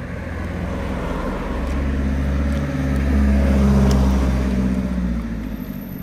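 A car drives along a road, its engine and tyre rumble steady and close, rising slightly in the middle, with no talk.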